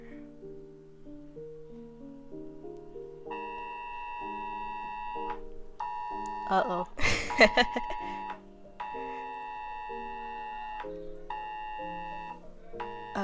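A phone emergency alert for a blizzard repeats steady tonal beeps in a melodic pattern, loud and close, broken midway by a brief rustle and a short spoken remark.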